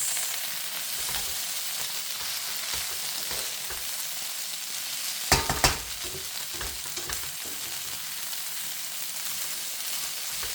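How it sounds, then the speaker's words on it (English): Rice sautés in a hot pan with a steady, fairly quiet sizzle and frying crackle, plus a brief burst of stirring scrapes partway through. "Okay, I'm gonna saute the rice."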